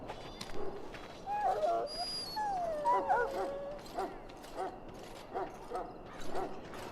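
A dog in Dragon Age Origins whimpers and whines in drawn-out, wavering pitches, followed by softer whines and faint creaking sounds, close and fairly clear.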